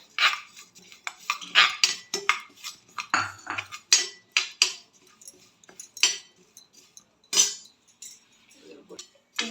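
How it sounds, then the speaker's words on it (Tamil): Rapid crackling and popping of sesame seeds roasting in a heavy pan, sharp irregular snaps scattered throughout with occasional scraping, fairly close. "எள்ளு பொரியுது பாருங்கள்."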